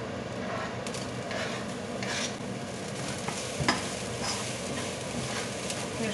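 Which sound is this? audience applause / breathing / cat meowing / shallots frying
shallots frying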